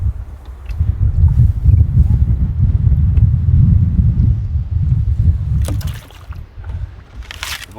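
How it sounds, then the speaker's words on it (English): Wind gusting across an open lake on a cold spring day, buffeting a canoe and the microphone with a loud, steady low roar that eases toward the end, joined by brief splashing or rustling. "Here comes another gust."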